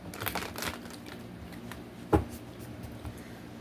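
Tarot cards shuffled by hand during a reading, soft papery riffles and rustles near the microphone with one sharper slap or tap midway, fairly quiet overall.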